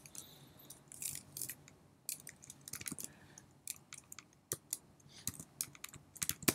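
Computer keyboard typing in irregular bursts of crisp, close clicks while entering a git commit title in a terminal, with short pauses between flurries and no talking.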